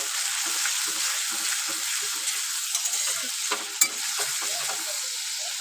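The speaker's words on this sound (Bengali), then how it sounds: "দিয়ে কিন্তু খুব ভালো করে ভেজে নেব মশলাটাকে" Spice paste fries with grated tomato in a pan, a steady close sizzle with stirring scrapes and one sharp clink near the end, no talk.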